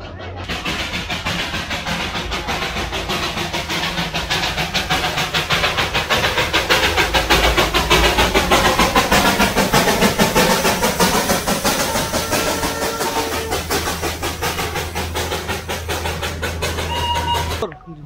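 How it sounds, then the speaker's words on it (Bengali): The Darjeeling toy train passes close by near Ghum, its engine rumble and rolling wheels swelling to a loud peak midway and then fading slightly, with faint voices in the background. "দেখো ওই দূর থেকে টয় ট্রেনটা আসছে, এটা আমাদের পাশ দিয়েই যাবে।"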